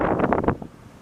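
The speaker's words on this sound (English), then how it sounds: "but it's really windy" Strong gusts buffet the microphone outdoors on a downtown Montreal street, a loud low rumble that surges for about half a second and then drops to a softer steady rush.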